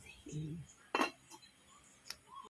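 A lid set back onto a pot of simmering chicken adobo, one bright metallic clank followed a moment later by a lighter clink, with a brief voice just before.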